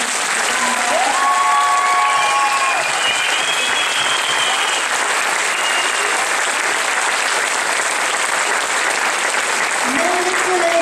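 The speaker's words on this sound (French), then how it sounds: "Donc vous pouvez les applaudir." Audience applauding children at an end-of-year school performance, with sustained, dense, loud clapping throughout and a few voices and cheers rising briefly above it.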